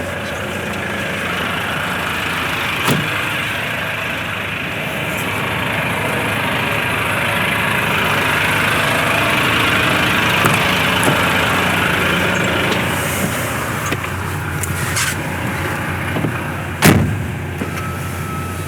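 An articulated truck's engine idles in neutral, parked at a loading dock. Its steady, loud low rumble continues throughout, with a couple of brief knocks and clanks near the end.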